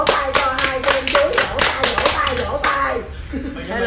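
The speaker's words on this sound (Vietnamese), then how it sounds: "Một tràng pháo tay cho anh Trần Hòa. Vỗ tay cho hai kem chuối" Steady applause from a group, rapid dense claps for a few seconds before thinning out, with voices chattering over it.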